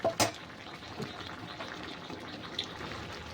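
Water poured into a pan of cooking spinach: a short splashing burst at the start gives way to a steady low simmering hiss, with no voices.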